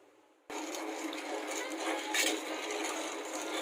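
After a quiet start, about a cup of water pours into sugar in a pan for syrup, a steady close splashing rush that continues to the end without any talking.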